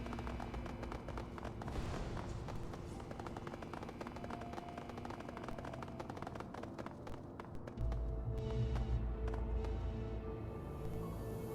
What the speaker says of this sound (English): A flashbang grenade.